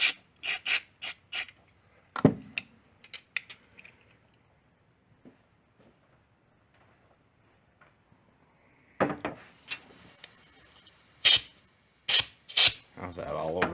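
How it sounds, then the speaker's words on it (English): Compressed air from an air compressor blasts through a Jeep idle air control valve, coming as several short, close hissing bursts after a stretch of quiet handling noises. "Get the air compressor and blow out the inside."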